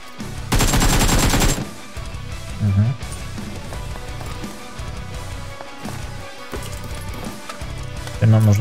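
Gunfire in PUBG Mobile: a loud, rapid burst of automatic fire up front, followed by scattered single shots and thuds, with voices talking in between.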